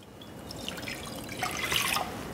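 Water pouring or trickling into a glass microwavable bowl, a short close splashing run that brightens and swells toward the end.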